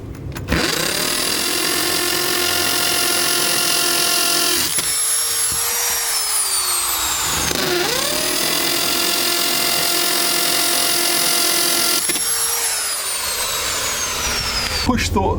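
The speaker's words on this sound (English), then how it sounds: "I just want to show you how awesome it is using a hammer drill." A hammer drill whines as it bores holes into a wall in bursts, each run a loud, high-pitched motor drone that spins up, holds and winds down, close by.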